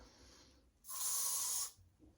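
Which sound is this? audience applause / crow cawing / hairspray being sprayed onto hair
hairspray being sprayed onto hair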